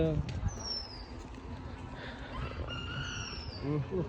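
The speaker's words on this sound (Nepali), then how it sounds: "कुकुडो पनि बोलिरहेको छ है गाइस, कुकुडो पनि बोलिरहेको छ।" A rooster crows twice at a distance, its calls rising over a noisy outdoor background with people talking nearby.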